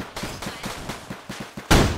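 Gunfire in the video game Flag Wars: a rapid, even series of about eight close shots, then a louder, heavier blast at the end, with no talking.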